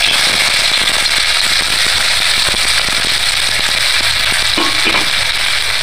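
Onions hit hot oil in a kadai and fry with a loud, dense sizzle, crackling and popping steadily throughout, with no talk.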